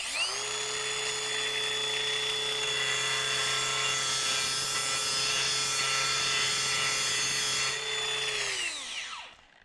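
A Hilti Nuron AG 6D-22 six-inch cordless angle grinder, fitted with a compact battery pack, grinds on angle iron in a loud, steady high whine for about eight seconds before spinning down at the end.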